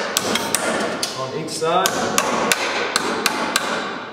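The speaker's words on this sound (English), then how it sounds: "All right, you'll need a hammer." A hammer drives the nails of an electrical box into a wooden stud with a steady series of sharp, close metallic whacks. A brief voice is heard in the middle.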